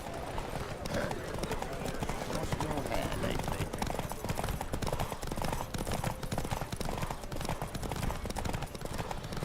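Rapid, steady hoofbeats of a galloping horse in the video game The Witcher 3: Wild Hunt drum throughout, loud and close, with voices calling out over the pounding rhythm.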